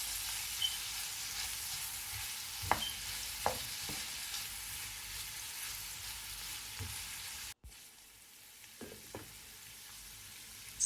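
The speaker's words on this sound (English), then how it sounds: "Fry for an additional 2 minutes." Raisins sizzle and fry in a pan for a Kabuli pulao with lamb, a soft steady crackle with a few sharper pops and stirring clinks, no voices.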